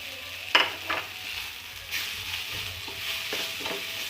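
Tomatoes and masala for thakkali thokku frying in a pan, a low steady sizzle broken by several scraping stirs of a spoon against the pan, close and moderately quiet.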